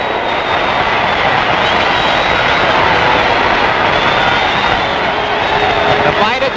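A dense boxing-arena crowd roars and applauds after a strong round, a loud sustained wash of cheering with no clear breaks, and a commentator's voice running over it.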